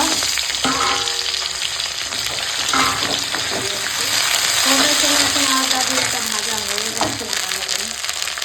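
Taro and potato pieces frying in a pan of spiced oil give off a steady, close sizzle with occasional stirring scrapes and clinks, continuing throughout the clip.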